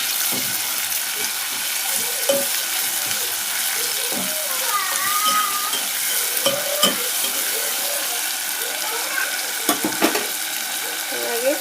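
Chopped tomatoes and chillies sizzle and fry steadily in a pan while a spoon stirs and scrapes against the metal in irregular strokes, close and clear, with a voice speaking briefly over the cooking.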